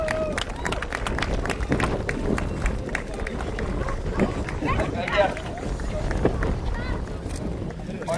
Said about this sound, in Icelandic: Gefið henni Ragnheiði gott klapp.